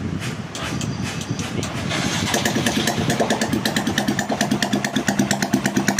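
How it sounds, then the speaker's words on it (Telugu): A motorcycle engine with a freshly completed overhaul runs steadily nearby, its rapid, even beat growing more pronounced and rhythmic as it settles. "అయితే ఫస్ట్ ఇంజిన్ బీటింగ్ అన్నాను భయ్య"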